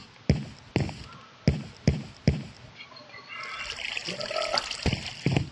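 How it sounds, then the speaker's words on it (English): Water sloshes into a barrel in the game Minecraft Sky Factory 3: five evenly spaced sharp hits, then a steady trickling pour that ends with a couple of louder splashes. "take water in a barrel like this"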